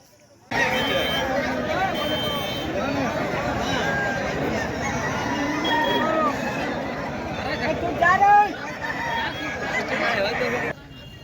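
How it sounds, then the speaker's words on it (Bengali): A dense crowd gathers around a cockfight at a village fair, a loud continuous babble of many voices with shouts rising and falling and some sharp bird-like honks cutting through near the end. "মুরগি লড়াই এখানে হচ্ছে, এই যে অনেক লোকের ভিড় দেখতে পাচ্ছ"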